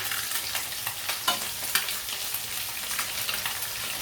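Yellow Alexandrian koshari being stirred with butter in a pot: a steady sizzle runs throughout, broken by soft irregular scrapes and clicks of the utensil, close and fairly loud, with no talking.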